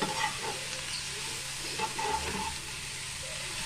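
Brinjal and ivy gourd pieces with salt are stirred in a hot pan, producing a low, continuous sizzle with light scraping, brief and without speech.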